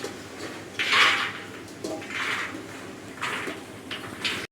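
Washed black chickpeas tipped into a pressure cooker in a home kitchen, a few short clattering pours and metal knocks spaced a second or so apart, close and moderately loud.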